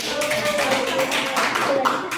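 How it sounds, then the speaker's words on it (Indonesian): Applause from a classroom audience during a microteaching lesson, a steady patter of claps lasting about two seconds alongside a voice talking. "Ya, oke, beri tepuk tangan."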